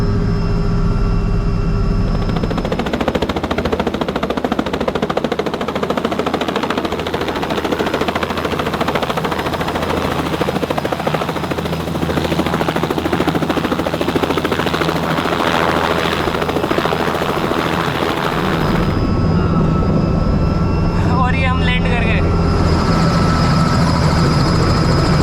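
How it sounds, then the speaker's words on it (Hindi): A helicopter descends overhead, its rotor thump and engine roar loud and continuous, swelling and shifting in tone as it drops, with a brief quieter stretch near the end before the drone resumes. "जैसे जैसे हेलीकॉप्टर नीचे जाता है ना"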